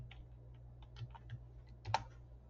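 Sparse keystrokes on a computer keyboard, a few soft separate clicks over a low steady hum, close and quiet.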